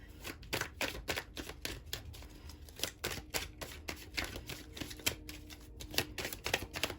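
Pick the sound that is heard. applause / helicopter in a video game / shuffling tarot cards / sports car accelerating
shuffling tarot cards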